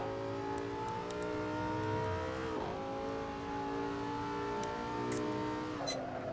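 Car engine in Assetto Corsa on the Nurburgring, revving hard with tonal harmonics climbing through gears, a pitch drop at each shift, loud and continuous with no talk.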